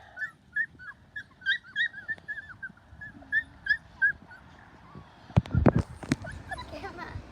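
Three-week-old standard poodle puppies let out repeated high, thin whimpers and squeaky yips up close, with a burst of louder scuffling and rustling toward the end.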